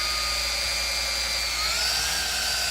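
A high-speed steel bit drills by hand into a camshaft part, giving a steady, high, whining drone that holds close and loud throughout with a slight pitch shift partway.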